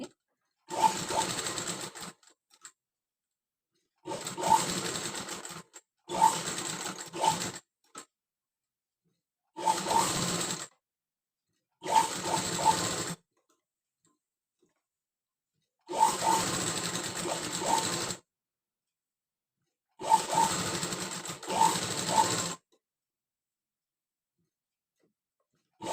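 Sewing machine running in separate bursts of a few seconds each while double-stitching the back piece of a cutwork blouse, with short pauses between runs and no talking.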